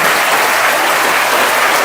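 A group of schoolgirls applauding, dense and loud continuous clapping from many hands that fills the whole stretch without pause or speech.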